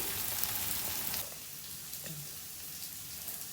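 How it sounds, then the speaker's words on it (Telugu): Onions shallow frying in oil in a pan, giving a steady, soft, even sizzle with a faint hiss that drops slightly partway through, close and continuous with no voices. "నేను ఇవి మంచిగా షాలో ఫ్రై చేసుకుంటున్నాను డీప్ ఫ్రై చేసుకోకుండా"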